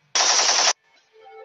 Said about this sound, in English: I want to take the Nerf gun.